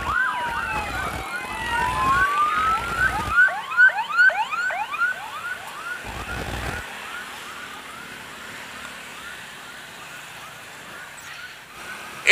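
A loud wailing ambulance siren sweeps up and down repeatedly during an escort in Purwakarta, then settles into a steadier rising and falling tone that fades slightly toward the end.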